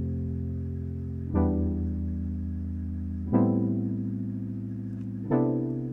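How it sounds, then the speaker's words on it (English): Retro analog-style synth chords from the Diva plugin sustain warmly, with a new chord struck every two seconds or so. The chords play softly and alone, with a smooth attack and a low, full body. "I use Diva VST, so I got like a really good kind of retro analog sound for the chords"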